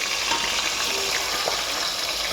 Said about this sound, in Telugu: ఇక ఉల్లిగడ్డలు పచ్చిమిరపకాయలు అయితే పోసి వేస్తాం